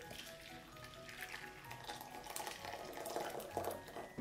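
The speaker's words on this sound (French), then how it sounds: "On ajoute un petit peu d'eau." Water is poured onto matcha powder in a bowl, a soft, continuous trickle and splash that is faint and close, with no voices over it.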